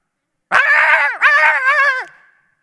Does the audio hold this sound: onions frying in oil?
no